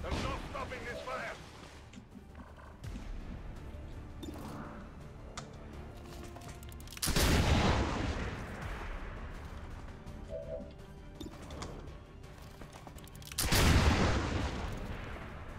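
Gunfire in the XCOM 2 video game, heard as two heavy booming shots several seconds apart, each ringing out over a low rumbling game soundscape with talking throughout.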